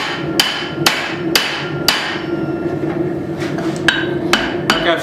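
Sharp, loud hammer blows ring out at a steady pace as a blacksmith forges the eye of a tomahawk around a drift at near forge-welding heat, with about nine strikes.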